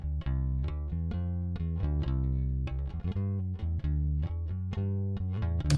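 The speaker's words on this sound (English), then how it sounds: "So that's right off the bass guitar right there." An electric bass guitar recorded straight into an audio interface with no processing plays a series of clean, plucked notes with a rounded attack and steady volume. It sounds alone, with no voices.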